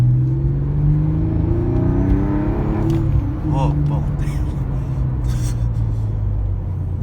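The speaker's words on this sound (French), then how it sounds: "Ça c'est un moteur atmosphérique" A Porsche 911 Type 996 Carrera 4S with a naturally aspirated flat-six revs on a road drive, its engine rising with a rumbling, whirring tone close by, while a voice exclaims over it.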